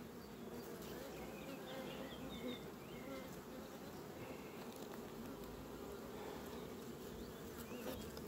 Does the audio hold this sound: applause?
no